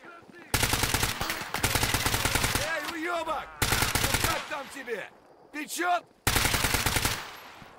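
Automatic gunfire from the video game Stalker GAMMA rattles out in several long, loud bursts separated by brief pauses in which a voice talks.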